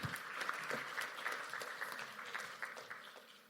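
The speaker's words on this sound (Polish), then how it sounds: "Proszę o brawa dla Ani." Audience applause for Ania at a gastronomy zero-waste meeting, steady clapping from a seated crowd that holds for several seconds and slowly fades, with no voices over it.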